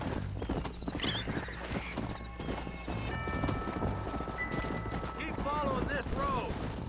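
Rhythmic hoofbeats clatter at a gallop amid game sound effects in Red Dead Redemption on Xbox One, with a horse whinnying near the end and a voice speaking over the action.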